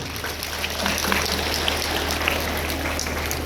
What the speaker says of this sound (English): Have a big round of applause once again.